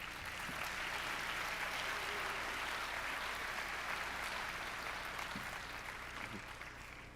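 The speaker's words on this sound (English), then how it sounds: "give everyone a round of applause" Sustained applause from a convocation audience honoring the graduating nurse practitioner and perfusion medicine class of 2023, a steady dense wash of many hands clapping that fills the hall and tapers slightly toward the end.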